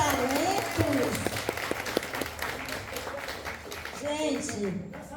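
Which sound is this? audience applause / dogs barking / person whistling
audience applause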